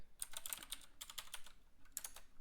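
Quick, quiet keystrokes on a computer keyboard at a gaming setup, a rapid run of light clicks in two short bursts separated by a brief pause, with no talking.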